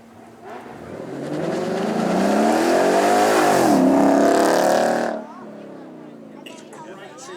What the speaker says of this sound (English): The Mustang convertible there, 5 litre V8, you can hear every single bit of it with the roof down.